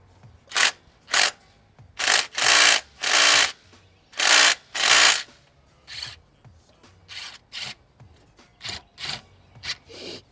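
A ratchet wrench loosening 15mm bolts: a run of loud, rapid clicking bursts, some long and some short, then quicker, fainter clicks toward the end, close up with no talking.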